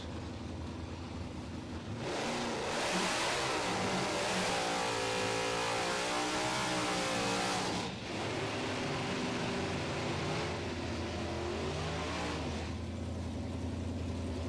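Factory stock drag cars, including a 2019 Turbojet Mustang in stock eliminator, rev their engines loudly at the start line, a sustained roar that climbs and falls in pitch with a short dip before surging again.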